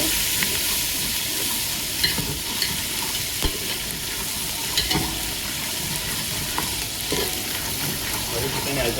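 Garlic and green chillies sizzle in hot oil in a pan, a loud continuous frying hiss with occasional stirring scrapes and clinks over it.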